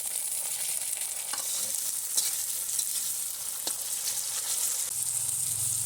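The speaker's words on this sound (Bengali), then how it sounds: "এই পর্যায়ে আমি এর মধ্যে অ্যাড করবো হচ্ছে টমেটো আমি কেটে রেখেছিলাম" Chopped tomato goes into browned onions frying in a pan for a Bengali mutton curry. A steady, bright sizzle runs throughout, with several sharp scrapes of stirring and no voices.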